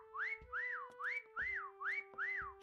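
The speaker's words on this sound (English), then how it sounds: "Just follow the sound of my whistle." A whistle in Disney Dreamlight Valley sounds six times in a steady rhythm, each a clear rising-and-falling tone over a faint constant hum.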